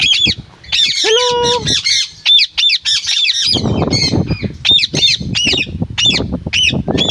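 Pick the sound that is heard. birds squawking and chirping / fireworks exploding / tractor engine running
birds squawking and chirping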